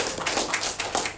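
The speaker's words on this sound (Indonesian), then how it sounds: "Tepuk tangan dong sampai" Audience clapping at a stand-up comedy show, a short burst of scattered hand claps from the crowd with slightly uneven rhythm, moderately quiet and with no talking over it.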